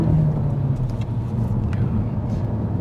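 A Peugeot 308 GTi 270 hp hot hatch, 2016, at full throttle, its engine droning in a steady low roar heard from inside the cabin with road and wind noise over the short stretch.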